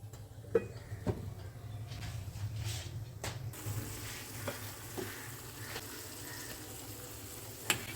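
Vegetable thukpa, a Tibetan noodle soup, bubbles in a covered pot, giving a steady low simmering hiss with a few sharp clicks and knocks from the lid or pot, and no talking.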